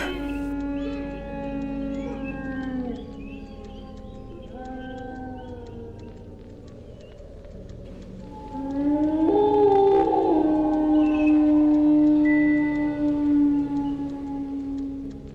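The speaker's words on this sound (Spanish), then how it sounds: "Aullidos, no como de coyote, más largos, mucho más extraños." Long, strange wavering howls, unlike a coyote's, rise and fall across the whole stretch, with a louder drawn-out wail swelling in the second half over a low background rumble.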